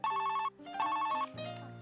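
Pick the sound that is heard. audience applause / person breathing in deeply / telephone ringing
telephone ringing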